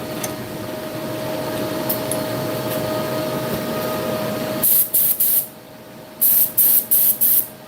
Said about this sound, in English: Let's check our spray pattern.